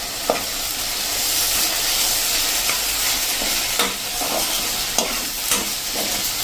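Spices being stirred in a hot pan for masala bun dosa, with a continuous sizzle and periodic scraping strokes of a spoon against the pan, close and clear.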